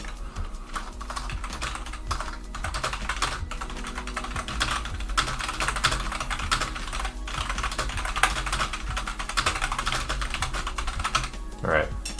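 Rapid, continuous clacking of a computer keyboard close to the microphone, dense keystrokes with a few louder thumps, ending in a brief rising tone.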